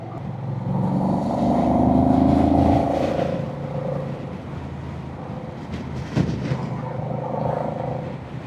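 A Honda Rebel 1100 DCT motorcycle on a test ride gives a steady, loud engine drone mixed with wind rush, swelling and easing slightly as it cruises, with one brief knock partway through.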